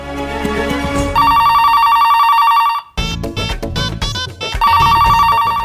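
An unanswered telephone rings loudly in a sustained electronic tone, stops briefly for a busy burst of other sounds, then resumes ringing.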